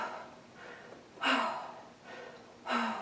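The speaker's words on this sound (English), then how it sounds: "Breathing's perfect." A person exercising breathes audibly during a slow workout movement, with two sharp, loud breaths separated by softer airy inhales and exhales.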